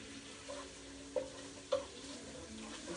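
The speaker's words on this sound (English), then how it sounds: "So guys, I'll be adding my ginger and my little pepper in here." Ginger, pepper and onions fry softly in a pan for Nigerian fried rice, a faint steady sizzle broken by a few sharp scrapes and clicks of stirring.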